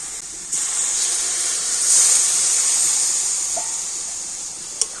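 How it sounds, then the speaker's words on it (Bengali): Hot water poured into a pan of boiled chana dal and potato, a steady close hiss and rush of steam lasting several seconds, swelling briefly then settling, ending with a small knock. "ছোলার ডাল আর আলুটা দিয়ে দেব আর এবার আমি এর মধ্যে দিয়ে দেবো গরম জল"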